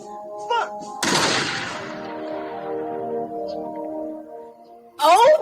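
Rifle volley fired on command at a military funeral: one sharp, loud simultaneous crack that rings out and decays slowly over sustained tones, with brief voices before and after.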